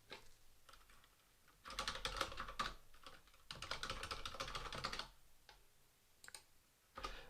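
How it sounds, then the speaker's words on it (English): A username and password typed on a computer keyboard: short bursts of quick, close key clicks separated by brief pauses, ending with a final clatter. "I will type in my username and password"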